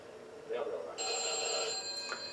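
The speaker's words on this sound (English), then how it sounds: "that was an aggressive ring. Sounded like the phone was trying to blow itself up." A telephone rings with a bright, sustained electronic trill over speech and background sound in a scene from a Doctor Who episode, moderately loud.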